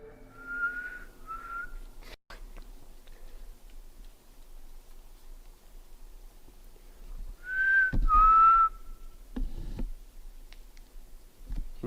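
Two short human whistled notes in the woods, then a pause and two more rising whistles, distant-sounding in quiet surroundings with a few faint clicks.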